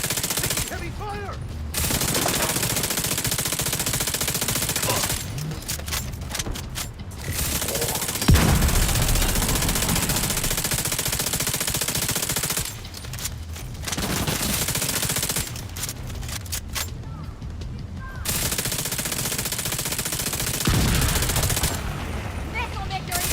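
Heavy machine gun fire in The Division 2 shooter game, loud sustained bursts that start and stop in several long stretches, with a player talking in the gaps between volleys.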